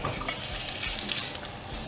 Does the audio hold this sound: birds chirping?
no